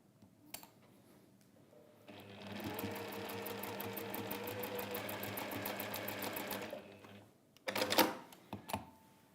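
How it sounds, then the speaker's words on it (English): A sewing machine runs steadily for several seconds, stitching a quilt seam in a Migrating Geese quilt block, its fast regular needle clatter preceded and followed by faint handling knocks. "So we can sew this now. We're going to sew it along there"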